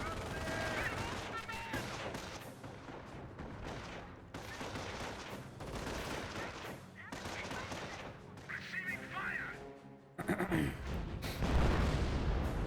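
Rifle gunfire rattles from a Company of Heroes battle, with dense overlapping bursts and booms filling the mix throughout.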